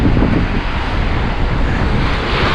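Strong wind buffets the microphone at the seaside in Cavite, Philippines, with waves and surf rumbling beneath, a steady loud roar with no let-up and no voices.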